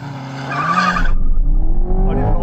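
A Corvette or Ferrari 458 Speciale launches in a drag race, a loud engine roar with tyre squeal that drops into a deep rumbling surge as the car pulls away, close and alone without talk.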